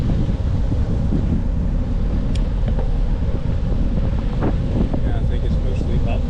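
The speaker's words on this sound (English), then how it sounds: "Sounds windy." Strong gusting wind buffets the microphone with a constant low roar, and faint rustling and a few distant higher sounds come through behind it.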